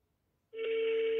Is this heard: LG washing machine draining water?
no